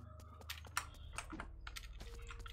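Rapid typing on a computer keyboard's arrow keys while playing the cyberpunk 2D platformer Blade Assault, a steady run of close, crisp clicks and taps with a few sharper strikes, over faint background game sound.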